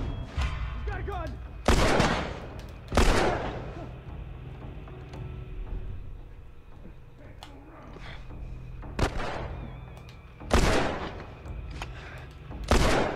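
Gunfire rings out in The Last of Us, with several loud, sharp shots spaced irregularly over a low rumbling game background, and speech at times in between.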